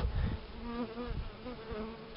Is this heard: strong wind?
no